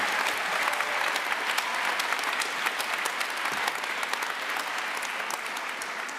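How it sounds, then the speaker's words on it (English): Sustained applause from a commencement crowd honoring Master of Fine Arts students at a UMD art and immersive media design ceremony, a dense, even roar of clapping that holds steady throughout. "One last round of applause for the Masters of Fine Arts students"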